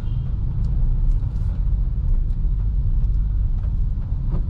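Manual-transmission car idling in slow stop-and-go traffic, a steady low engine rumble with no distinct gear-change events standing out, continuous and fairly close throughout.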